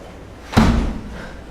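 A door is shut in a quiet room, one sharp slam near the middle followed by a short low rumble as it settles, with no talking around it.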